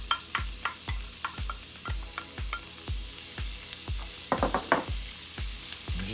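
Onions and garlic fry in a pan for fried rice. A soft, constant sizzle sits under a regular rhythm of spatula scrapes, roughly two per second, with a brief flurry of quicker stirring near the end.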